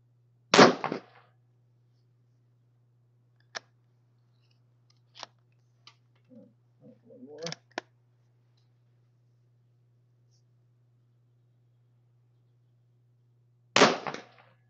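Two loud, sharp 17 HMR rifle shots crack about thirteen seconds apart in an outdoor setting at 100 yards, with faint clicks and handling noises in between over a low steady hum.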